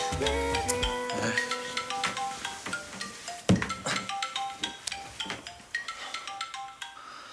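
A mobile phone plays a melodic ringtone with a string of bright, chiming notes in a repeating tune, fairly clear and steady in a quiet room.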